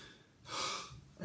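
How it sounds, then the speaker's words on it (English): A player draws a deep breath in before playing saxophone. A single close, audible inhale swells and fades over about a second, then a brief sharper sound follows at the end, with no speech. "So if you simply take a deep breath"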